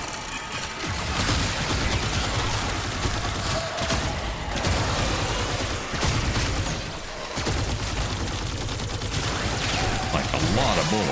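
Gunfire in the video game Warframe, dense continuous rapid shots and booming bursts layered into a loud sustained barrage with brief gaps, with some background game noise.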